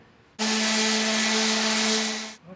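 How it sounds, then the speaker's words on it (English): A steady, loud whirring power sander with 40-grit sandpaper sands a hardwood cutting board for about two seconds with a constant hum, then spins down and stops. "we're ready to start the sanding now, and we're going to start out with some 40 grit"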